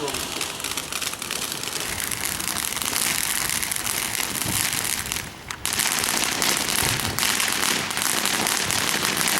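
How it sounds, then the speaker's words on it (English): Neighbors' Fourth of July fireworks crackle and pop in a dense, continuous outdoor barrage, loud and steady throughout with a brief dip midway, heard outside at night alongside a larger show overhead. "the neighbors are doing their fireworks"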